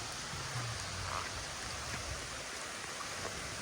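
Continuous hiss of steady, heavy rain over rice-farming country in Thailand, even and moderately loud, with no voices or other distinct sounds.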